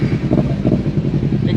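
Motorcycle engine, a 2016 Kawasaki Ninja 250 or 2016 Honda CBR 150R facelift, idling close by with a loud, steady low putter throughout a short stretch.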